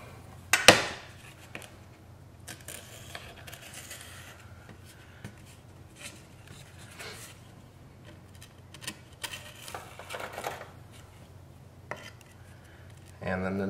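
An X-Acto knife trimming excess epoxy-coated cloth on a model F-16 build, giving faint intermittent cutting and scraping strokes, quiet and close, with a sharper knock near the start.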